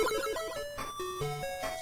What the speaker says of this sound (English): That sound was us leveling up somehow.